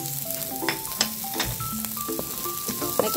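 Garlic and onion frying in hot oil in a pan give a loud, continuous close sizzle with crackling pops and occasional spatula scrapes, with no talking.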